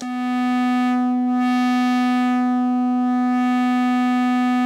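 A modular synth sine wave, with its quad stereo channel output patched back into the auxiliary input, sustains as a loud, steady tone rich in stacked harmonics, with a faint slow sweep in the upper overtones.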